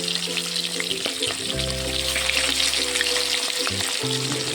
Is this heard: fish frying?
yes